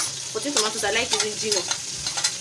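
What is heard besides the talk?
tomatoes frying in a pan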